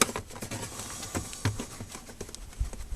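A plastic plug snaps into an aFe Momentum GT Pro 5R cold air intake on a Dodge Ram 1500, among close small taps and handling clicks, with one sharper knock near the middle.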